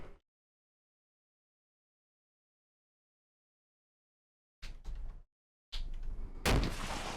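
Gunfire in the Combat Mission: Black Sea war game: after a long silence a short burst of shots sounds, then a louder, sustained stretch of firing and blast noise.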